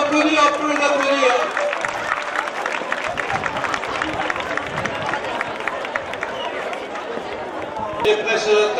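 Outdoor crowd at a bull-running pool event in Saint-Rémy-de-Provence, with sustained chatter, cheering and scattered applause rising and falling across the whole stretch, loud and close, with some nearby shouting.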